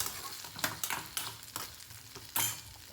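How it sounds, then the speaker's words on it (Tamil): Tomatoes being sautéed in a pan, stirred with a utensil that scrapes the pan in several distinct strokes over a soft, steady sizzle, close by and with no talking. "கூடவே தக்காளியுமே சேர்த்து நல்லா வதக்கிட்டு ஆற வச்சுருங்க."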